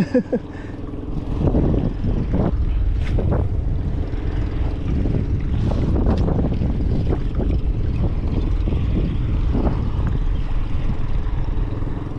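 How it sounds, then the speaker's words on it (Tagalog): A fishing boat rocks on strong sea waves off Calatagan, Batangas, in the Philippines, giving a steady, loud rumble of engine and wind with rushing water that carries on for the whole stretch. "Ang lakas ng alon, kakainis."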